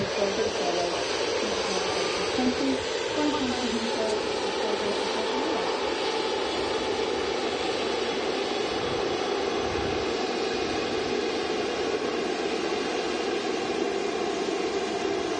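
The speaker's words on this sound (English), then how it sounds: "Taxiing out here on the taxiway next to the Runway Visitor Park" A jet airliner taxis along a taxiway beside the runway visitor park at Manchester Airport, its engines giving a loud, steady broadband roar and whine that holds unbroken for the whole stretch.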